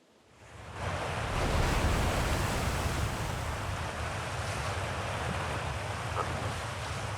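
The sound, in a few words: high-pressure water blasting in Outer Wilds video game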